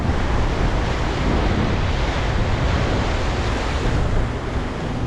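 Strong, steady wind roars and buffets the microphone throughout, a dense continuous rush with no voices, resembling heavy surf.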